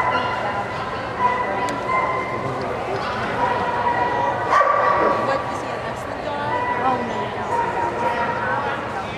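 A dog barks and yips a few times amid people talking at an AKC agility trial, the barking moderately distant and irregular.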